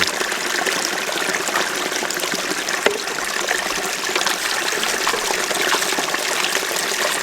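Water flows steadily through a gold sluice during a clean-out at Nugget Gully, a continuous loud rushing and trickling with one small knock partway through.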